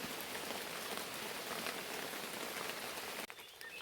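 Heavy rain pours down steadily in a dense, hissing wash, easing slightly right at the end.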